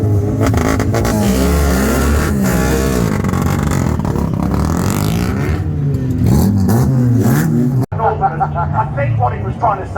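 Race cars rev and roar at Hednesford Hills Raceway, loud, close, rising and falling engine sweeps with scraping, mixed with crowd babble and voices.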